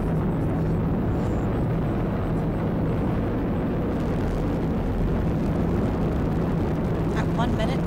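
SpaceX Falcon 9 rocket in ascent after liftoff, a deep continuous rumbling roar, distant and steady, with a voice speaking over it.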